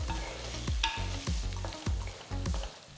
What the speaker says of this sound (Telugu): ఇప్పుడు చిన్నగా తరిగిన 4 పండు టొమాటోల్ని వేసి కలపాలి